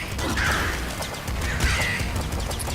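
Two short cawing calls from a crow in the video game Nuclear Throne, the second one after a brief pause, heard over a low busy game background.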